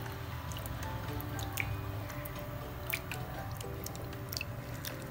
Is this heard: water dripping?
yes